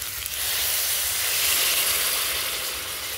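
Water poured into a hot pan of frying meat and vegetables, setting off a loud, sustained hiss and sizzle of steam that holds steady, then eases slightly.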